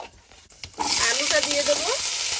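Whole cumin seeds dropped into hot oil in a pan burst into a sudden, steady, close sizzle after a brief quiet start, with a voice heard faintly under the frying.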